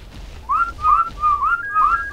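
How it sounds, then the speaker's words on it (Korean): Whistling in the game ARK: Survival of the Fittest, a short series of four or five clear rising whistle notes that repeat evenly and sound loud and near over low background noise. "휘파람은 겁나 불어오지만,"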